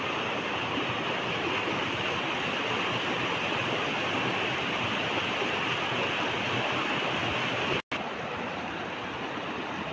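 Roaring stream flowing down from Mattupetty, a steady dense rush of water filling the scene at close range, unbroken apart from one brief cut near the end.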